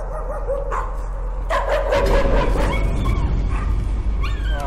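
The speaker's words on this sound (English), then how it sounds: "Poor puppy dog." A puppy in Layers of Fear yips, barks and whimpers in distress, a few sharp cries that turn into a crackling, rumbling burst of noise, loud and close with no one talking.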